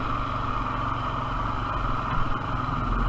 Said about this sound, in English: we have a problem with it idling